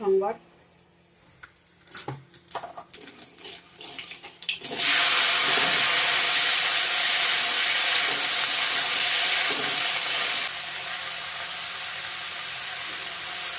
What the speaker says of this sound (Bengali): লঙ্কা ভাজাটা এখন করব কালো জিরে দিয়ে